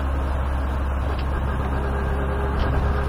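A turbocharged car engine drones steadily from inside while driving around 80 km/h, a low constant hum with faint mechanical whirring and no clear surges.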